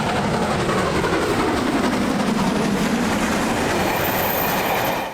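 A GWR Castle Class steam locomotive runs past with a loud, steady, rushing roar that fills the whole brief stretch without a break.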